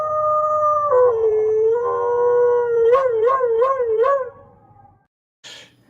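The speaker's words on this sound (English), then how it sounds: "our Dog Marooney" A dog howls in a long, wavering tone that rises and bends into several undulating yodel-like pulses, then fades and stops, followed by a brief noisy burst; no talking.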